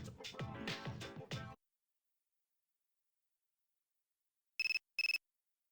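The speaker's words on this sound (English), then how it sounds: "You received a text message." A short burst of game audio plays, then silence, then a Persona 3 Portable text-message alert sounds as two quick, bright electronic beeps close together.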